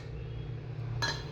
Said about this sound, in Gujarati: હવે આપણે આઈસ ક્યુબ નાખીને